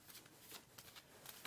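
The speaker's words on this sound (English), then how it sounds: "Going to pick up these other cards to shuffle with" A deck of tarot cards is shuffled by hand close to the mic, quick papery riffles and soft slaps coming in an uneven rhythm, faint and without voices.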